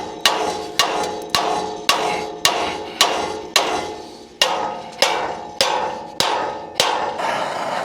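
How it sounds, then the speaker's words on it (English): Sharp metallic hammer taps on a tensioned wheel bearing on a plant trailer stub axle, about a dozen evenly spaced strikes, each ringing briefly before the next, close and loud. "I'll give it a couple of taps of the hammer when it's on tension"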